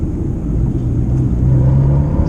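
A Fiat Panda with an Abarth Monza exhaust drives along, its engine giving a throaty low burble with a rising tone as it revs, heard from inside the car, loud and close.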